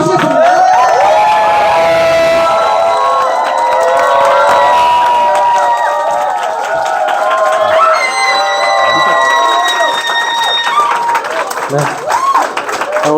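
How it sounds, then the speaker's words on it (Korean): A loud crowd claps and cheers to welcome a speaker to a Korean lecture, sustained applause with whoops and shouts throughout, voices calling out over it. "김지현 사장님을 큰 박수로 모시겠습니다."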